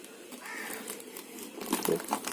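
Faint, close crinkling and rustling of packaging as a box of aquarium supplies is opened, with soft scattered crackles growing a little louder toward the end.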